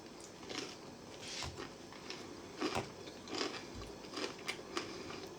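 Sourdough bread being chewed up close, soft crunchy bites and mouth sounds repeating in an irregular rhythm, faint and intimate over quiet background.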